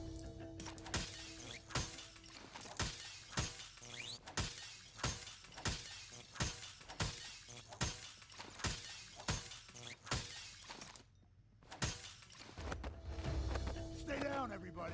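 In the PAYDAY 2 video game, glass cabinets and panels are smashed by melee, one loud crash after another in rapid, regular succession, each burst followed by tinkling shards, with a brief pause near the end before a final shatter.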